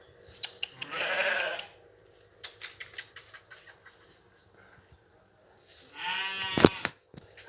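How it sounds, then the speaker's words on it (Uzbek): Sheep at a livestock sale bleat in two loud, drawn-out calls, one near the start and one toward the end, with scattered clicks and shuffling noises between them. "Haqiqiy mana zo'r qo'ylar ekan."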